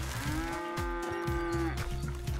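A cow in the video game Red Dead Redemption 2 gives one long, low moo, fairly close over a steady background bed.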